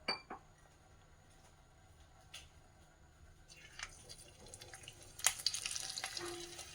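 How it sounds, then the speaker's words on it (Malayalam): Stuffed bajji chillies slipping into hot oil in a home kitchen, starting with a few faint clinks in a quiet room before a soft, rising sizzle near the end. "ഇനി ചൂടായ എണ്ണയിലേക്ക് സ്റ്റഫ് ചെയ്ത മുളക് ഇട്ട് കൊടുക്കാൻ പോകുക"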